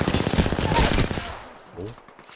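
Rapid gunfire in an Apex Legends match while playing Octane, a fast burst of close, loud shots that stops abruptly, followed by a short voice.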